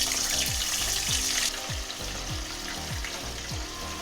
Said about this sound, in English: And my oil is very hot. I'm just gonna drop in my pork spare ribs.